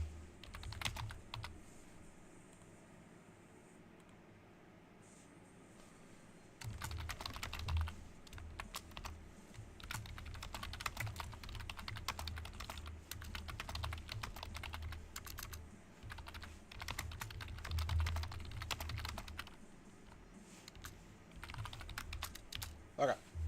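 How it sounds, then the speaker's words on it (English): Quick, clattery keystrokes on a computer keyboard come in close bursts with short pauses between them. A voice talks intermittently underneath. "As you could hear me typing."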